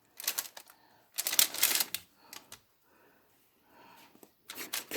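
A knife forces through a tough spaghetti squash near the stem, giving several close, crunchy cracking bursts separated by short pauses.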